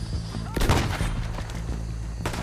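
Gunfire in the video game Red Dead Redemption 2 bursts out in a loud volley of overlapping shots with a rumbling tail, followed by a fainter later report, over game background sound.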